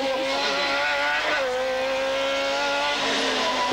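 BMW 318 rally car at the 1996 Rally Appennino Reggiano in Italy, driven flat out with a loud, sustained engine howl, brief pitch dips at gear changes and a steady high drone.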